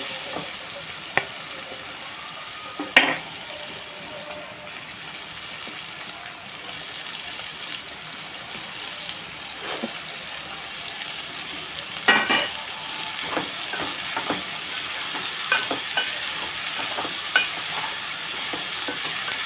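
Ivy gourd curry sizzles in a pan with a steady frying hiss, broken by occasional clacks and scrapes of a spoon stirring, some louder knocks standing out.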